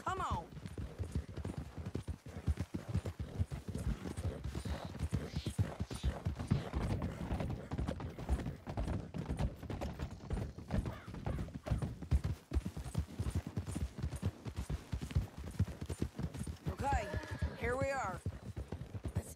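Hooves clip-clopping in Red Dead Redemption 2, a rapid continuous patter of horses on the move with a brief whinny near the end, running under steady conversation between characters.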